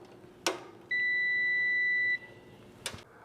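Multimeter on continuity setting testing a fuse in a Heat Wagon P1800 electric heater gives a single steady beep about a second long, bracketed by small clicks of the probes.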